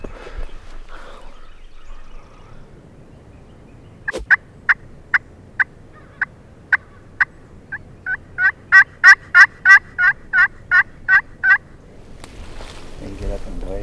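Wild turkeys gobble in the dark at dawn on opening day in the Tennessee woods. A sharp crack comes first, then a run of about fifteen rapid gobbles that grow louder partway through, ending in a brief rustle.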